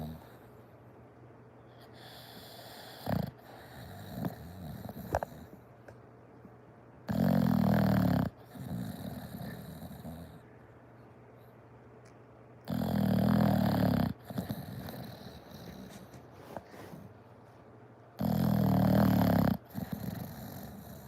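Sleepy puppies snoring in slow, steady rhythm with low growling grumbles, three long loud bursts standing out between quieter snuffles, close and alone without talk.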